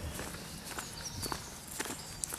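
Footsteps crunch faintly on a leaf-covered path, a steady irregular patter of people walking dogs at a distance in quiet countryside surroundings.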